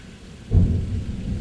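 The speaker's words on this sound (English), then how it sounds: "Let thunder roar through the faraway sky, bursting and banging and quivering long." A deep thunder rumble breaks in suddenly over steady rainfall and rolls on loudly and close through the short stretch, with no voices.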